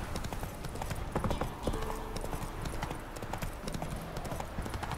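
Horse hooves clip-clop at a steady walking rhythm in The Witcher 3 video game, soft and faint over a low game ambience.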